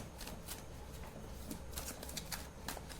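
A large tarot deck being shuffled by hand, with soft, steady papery riffling and quick card slaps running through the whole stretch at close range, fairly quiet and with no talk.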